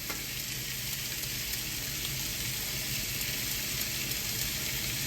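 Hamburger meat sizzles steadily on a griddle in a constant, even hiss that stays close and moderately loud throughout, with no talking over it.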